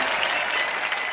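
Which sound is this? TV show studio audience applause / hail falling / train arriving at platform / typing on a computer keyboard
TV show studio audience applause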